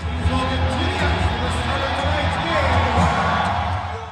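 A dense arena crowd of Carolina Hurricanes hockey fans at a playoff game screams and cheers continuously, a loud, close roar with shouts rising out of it, and voices talking through the din.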